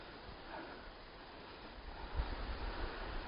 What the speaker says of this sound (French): il y a du vent comme ça, on va savoir si la bonnette anti-vent elle fonctionne bien